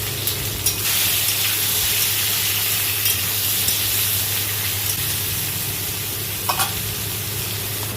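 Eggplant frying in a covered pan gives off a steady sizzle, loud and continuous with a constant low hum beneath and a few brief crackles, with no talking.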